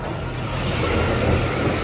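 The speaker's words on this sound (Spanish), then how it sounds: "No puede faltar el tractor." A tractor passes along a street in the small Cuban town of Cabañas, giving a steady, loud, low engine rumble that swells slightly and stays unbroken, with no voices.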